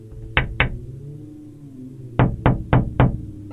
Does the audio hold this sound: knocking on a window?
yes